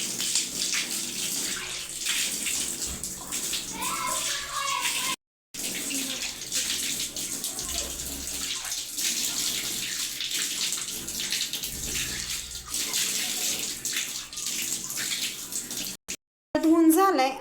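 A bathroom tap runs steadily, rinsing a freshly scrubbed faucet with a continuous splashing gush that pauses briefly twice.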